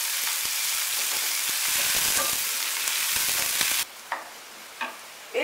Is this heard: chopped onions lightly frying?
yes